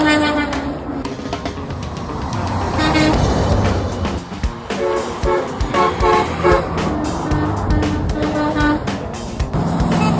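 A truck horn honks in loud repeated blasts over busy roadside traffic, with no talk and vehicles rumbling past close by throughout.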